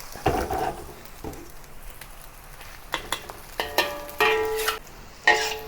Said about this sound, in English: And pan fry over low heat.